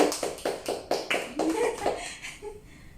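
Hand clapping during a booster box opening, a short series of sharp, evenly spaced claps close by that loosen and fade toward the end, with a voice speaking over them.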